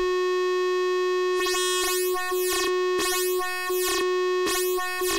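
A sine wave run through a Valley wavefolder module gives a steady pure tone that keeps sounding while bursts of bright, buzzy folded harmonics sweep in and out three times, loud and electronic with no voice.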